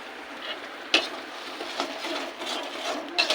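Turmeric, chili powder and salt being sautéed in oil make a quiet sizzle, with a sharp utensil scrape near the start and several softer scraping stirs spread irregularly after it.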